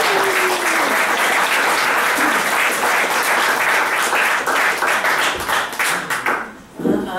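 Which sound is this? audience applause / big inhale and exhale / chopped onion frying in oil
audience applause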